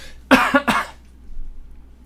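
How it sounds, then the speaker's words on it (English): A close, harsh burst of three quick coughs in a row, followed by faint background noise. "I'm not dabbing, I'm coughing"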